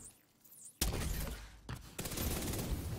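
Gunfire in the shooter game The Division 2 erupts abruptly after a quiet moment, a loud rapid burst of shots that briefly pauses and then resumes as sustained automatic fire.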